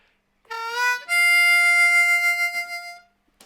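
A harmonica plays the second lick of a blues song: a short bending note, then a long, bright, sustained tone with slight wavering that fades out, heard alone and close.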